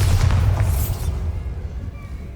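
Bombarda explosion spell cast in the video game Hogwarts Legacy, a loud, deep booming blast right at the start that rumbles and slowly fades over a couple of seconds.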